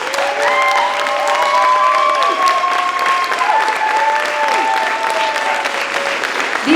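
An audience at a city art awards ceremony gives steady, full applause for standing students. The clapping is dense and continuous, and a few voices call out and cheer over it.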